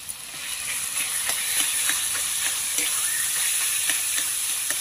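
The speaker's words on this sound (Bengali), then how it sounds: "আলু নিয়ে নিচ্ছি, এই চিকেন কিমার উপর দিয়ে দেব। এটা ভালোভাবে কষিয়ে নেব।" Potato and chicken mince sautéing in a pan, a loud steady sizzle and hiss close up, broken by faint rhythmic scraping from stirring, with no voices.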